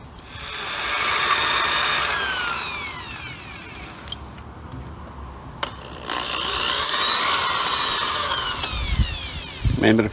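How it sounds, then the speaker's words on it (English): A power drill bores a roughly 1/4-inch hole into a fuel pipe fitting on a 1936 Chevy coupe, whining steadily in two long sustained bursts separated by a quieter pause with a couple of sharp clicks, ending with clattering handling noise. "you drill a hole big enough for that to go in about 1/4 inch"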